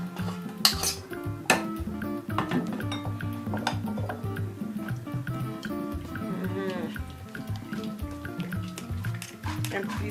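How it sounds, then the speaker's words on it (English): A metal spoon scrapes and clinks against a fine strainer while pressing ground millet and cloves through it, with irregular clatter and a voice talking over it. "You use your spoon or your ladle to press it through the strainer."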